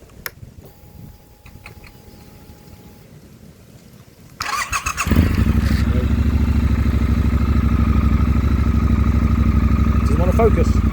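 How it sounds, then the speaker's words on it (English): A Triumph Scrambler 1200 XC motorcycle quiet at first, then its engine cranks and catches around the fifth second and settles into a steady, loud, close idle, with a faint voice briefly audible early on. "when you start it up, because I know you want to hear it, you just have to press and hold the clutch"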